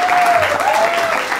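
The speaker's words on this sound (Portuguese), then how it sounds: "Uma salva de palmas" A stadium-style audience applauds the Cruzeiro Esporte Clube team, a dense, steady wash of clapping held at a loud level throughout, with a faint tonal whistle or voice running over it.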